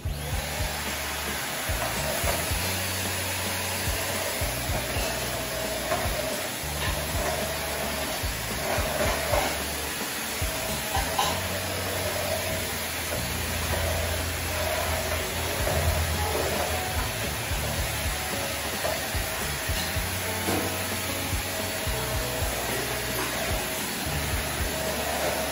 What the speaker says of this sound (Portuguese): eu peguei esse aspirador, passei na sala, passei nos quartos, passei no escritório, passei até na varanda